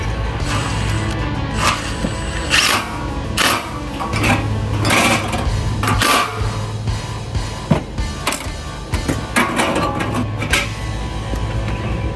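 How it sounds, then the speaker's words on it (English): A Milwaukee impact driver with a 10 mm socket drives screws while a carport is assembled, giving repeated short, close, rattling bursts with brief pauses between them. "Milwaukee Impact snapping on 10 millimeter"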